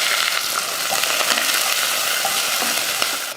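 Steady, dense sizzling of onions frying in hot oil, continuous and close, with faint stirring scrapes and no voices.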